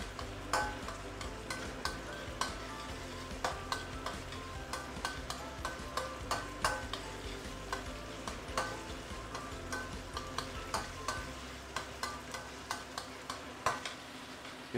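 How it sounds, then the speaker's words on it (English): Fresh spice paste for asam pedas sautéed in a pan, a spatula tapping and scraping in a quick, fairly regular rhythm over a soft sizzle, close but quiet, with no speech. "We need to saute it to bring out all the fragrance of the very nice fresh spices here."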